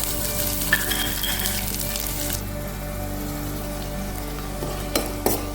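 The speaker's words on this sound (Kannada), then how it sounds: "ಈರುಳ್ಳಿ ಹಾಕ್ತಿದ್ದೀನಿ" Chopped onions sizzle and fry steadily in hot oil in a cooking pot, a dense continuous crackle with a few faint utensil taps, and no talking.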